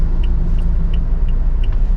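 A steady, dense low rumble comes from the 2.8L turbo diesel of a 2017 Toyota Fortuner 4x4 with a manual gearbox, idling in gear, close by and unchanging, with faint periodic ticks over it.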